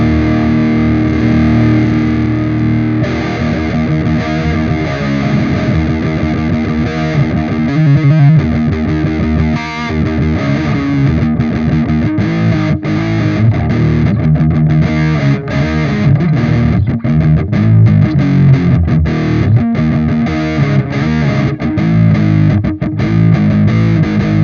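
Heavily distorted electric guitar runs through a Neurontube Tangie amp simulator with the gain fully up, playing dense, saturated riffs and chords continuously at high level with no voices.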